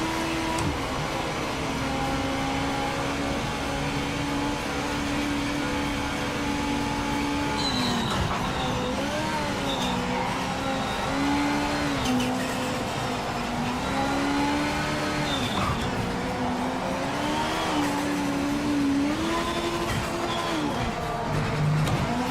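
A Porsche race car engine in the Project Motor Racing game drones and revs continuously, pitch rising and dipping through gear shifts, loud and steady without talk.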